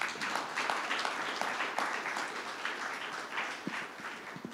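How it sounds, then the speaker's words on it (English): A large audience at a business awards gala applauds steadily, a dense, even wash of many hands clapping that holds at full strength throughout with no voices over it. "Wow, just a huge round of applause once again for her."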